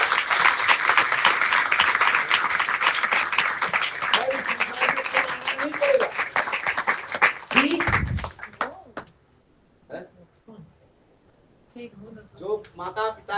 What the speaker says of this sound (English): So everybody clap very loudly.